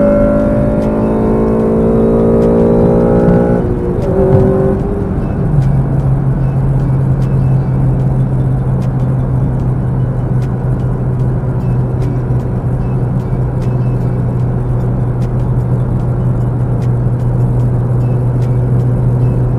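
A 2006 Honda Civic Si engine revs hard and climbs into VTEC, its rising whine breaking into a steady, droning cruise tone that continues loud inside the cabin.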